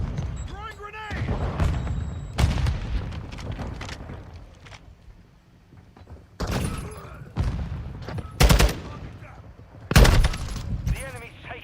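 Bursts of automatic gunfire and heavy booming impacts in the video game Call of Duty Modern Warfare II, loud close volleys separated by quieter gaps, with a grenade blast among them and voices calling out over the action.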